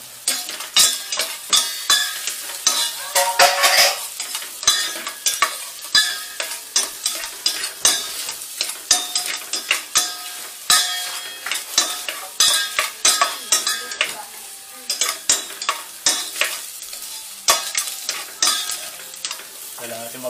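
Garlic sizzles in a pan while a utensil stirs and scrapes it in quick, repeated strokes, close and loud throughout, with no talking.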